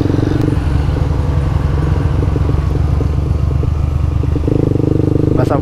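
Yamaha R15 v2 sport motorcycle being ridden through a corner on wet pavement: a steady, loud engine drone with a rattly buzzing note, holding fairly constant pitch, close to the listener.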